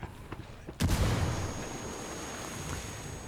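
A frag grenade detonates in the tactical shooter Ghost Recon Wildlands: a few faint clicks, then one sharp, loud blast whose rumble slowly decays over the following seconds, with no voices.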